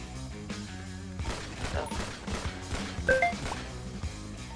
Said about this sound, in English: Oh, musket rifle.